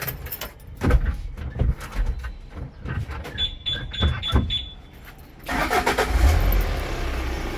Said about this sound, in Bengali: গাড়ির ইঞ্জিনের সাউন্ড